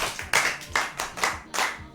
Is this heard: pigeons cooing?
no